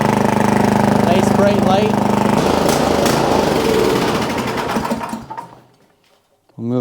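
Small gasoline snow blower engine idling loudly and steadily, then sputtering and dying out as it runs out of fuel, with a voice speaking briefly over it before the engine fades to near silence.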